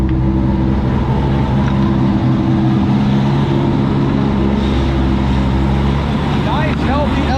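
A 2002 Chevy C5 Corvette Z06 with an LS6 engine runs at a steady idle, a loud, deep continuous rumble heard up close with little variation.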